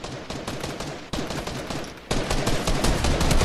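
Rapid gunfire in a video game rattles in dense, overlapping bursts and grows louder partway through. No voices are heard over it.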